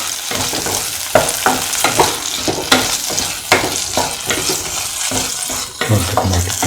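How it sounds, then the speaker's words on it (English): Tomato pieces sizzling in a hot pan while a utensil stirs them, for a scrambled egg and ground cashew stew; a steady close fry with repeated scraping strokes, no talk. "Put in the tomato pieces."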